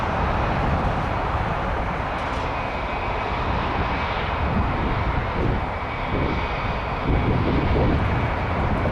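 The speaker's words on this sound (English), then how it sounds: "Headed to Vancouver, Embraer E195, E2." An Embraer E195-E2 airliner departs Toronto Pearson for Vancouver, giving a steady, moderately loud jet engine roar at a distance that swells slightly toward the end.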